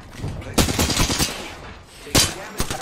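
Bursts of rapid automatic gunfire in the Apex Legends battle royale game, two loud clusters of shots close up with a brief lull between them and no talk.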